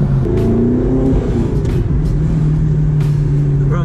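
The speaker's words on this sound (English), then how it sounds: "the car kind of sounds like a V10" Audi R8 with a V8 engine and loud exhaust, manual gearbox, accelerating hard with rising engine pitch and a gear change partway through, loud and close from inside the car.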